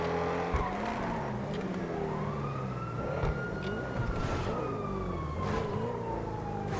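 An Audi R8 in GTA V races at high speed, its engine a loud continuous roar with rising and falling pitch through gear changes, and a siren-like wail mixed in close by.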